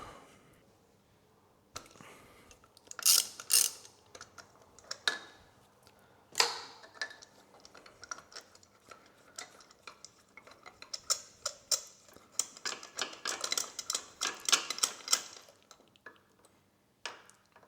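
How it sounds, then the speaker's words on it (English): Ratchet clicks in short bursts while spark plugs are removed from a Honda CB500X motorcycle, with sharper metallic ticks and taps from the tool and engine parts, close by and moderately loud with pauses between runs. "I'm going to remove the spark plugs."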